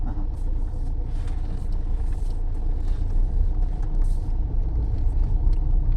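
A car driving along, a steady low rumble of engine and road noise heard from inside at moderate volume, with no voices.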